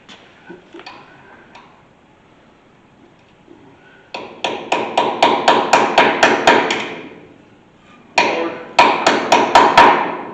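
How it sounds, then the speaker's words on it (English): Rapid metal hammer strikes in two bursts, steady and close, ringing sharply after a few scattered taps, as a socket is beaten onto a spindle of a 1972 C30 dually pickup truck. "I think I'm going to have to beat this socket in that top one a little bit."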